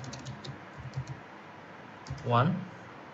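Fingers tap a computer keyboard while entering a connection name in structural design software: a few quick soft clicks, a pause, then another short burst of keystrokes with a brief vocal sound near the end.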